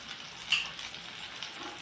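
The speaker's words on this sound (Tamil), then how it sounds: "அதையும் நல்லா எண்ணெயில் வணங்க விடுங்க." Cumin, black pepper and whole coriander seeds frying in hot oil over high heat while cooking beetroot chutney, a soft continuous crackling sizzle with one brief sharper pop near the start.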